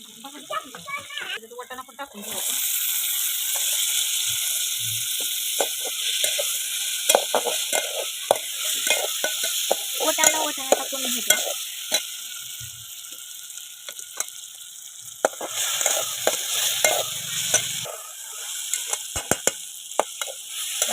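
Vegetables with spices and turmeric sizzle and are stirred in a pan, a steady frying hiss with clinks and scrapes of the spoon, while a voice talks over it at times.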